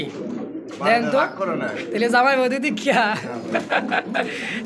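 Soft, throaty pigeon coos repeat steadily up close, with a voice talking over and between them.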